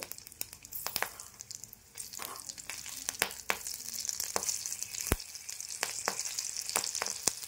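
Bay leaves and slit green chillies hit hot oil in a pan, giving a quiet, continuous sizzle broken by sharp, irregular pops and crackles that grow busier over several seconds.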